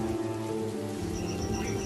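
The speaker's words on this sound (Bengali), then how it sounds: "গত 5 দিন যাবৎ একটানা বৃষ্টি পড়েই চলেছে" Steady rain falls continuously in a nighttime setting near a small grocery shop, a constant dense wash heard alone without a break.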